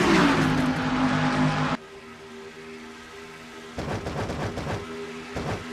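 Race cars roar down the front stretch at the Auto Club 400 in a racing video game cup series: a loud, dense engine rush at first, then a quieter steady drone broken by short revving bursts.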